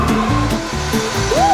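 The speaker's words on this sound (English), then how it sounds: "Ooh, listen to the sound of the pump." Pump driving a blue snail-shaped water slide whirs steadily up close, a continuous mechanical drone with a pulsing, chopping texture and a short rising whine at the end.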